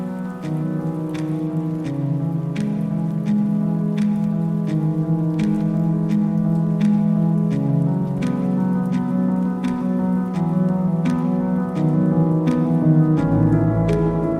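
Steady monsoon rain falls continuously at a mountain spot in Arizona around sunset, with regular dripping taps on a surface over a dense, even hiss.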